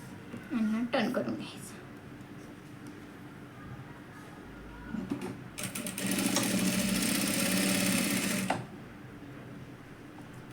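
A sewing machine stitches blouse fabric in one fast, whirring run of about three seconds after a quieter stretch, and scattered handling noises and a voice come earlier.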